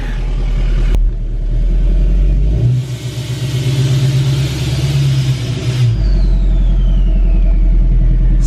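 A 2020 Duramax diesel truck engine idles with a deep, loud rumble, then revs up into a sustained higher drone for a few seconds before dropping back to a heavy idle.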